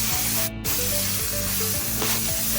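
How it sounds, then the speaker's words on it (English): A Tornador compressed air gun blows loose dirt and debris out of a Dodge Journey's interior with a loud, steady, close hiss and one brief pause. "we're going to use our air gun here, our little tornador, to blow out all of that loose dirt and debris"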